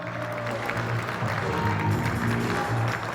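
Guests clap steadily and loudly at an 18th birthday celebration, a dense continuous round of applause with music or a voice faintly underneath.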